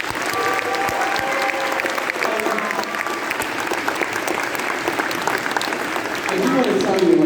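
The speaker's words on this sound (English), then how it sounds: "how about another round of applause for these kids?" An audience gives steady, sustained applause for marching band kids at an indoor end-of-season concert, with dense clapping throughout and a voice rising near the end.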